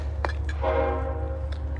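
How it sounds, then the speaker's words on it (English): A passing train sounds a sustained horn near a river trail, a loud steady tone rising over a deep rumble with a few short sharp knocks around it. "Sorry about the train."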